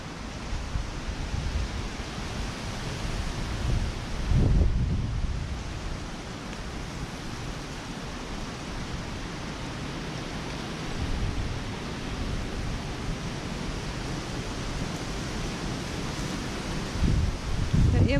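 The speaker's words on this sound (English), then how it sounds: "It's incredibly windy." Strong wind roars over the microphone at outdoor ruins among trees, a dense continuous rush with heavier low gusts buffeting the mic at intervals.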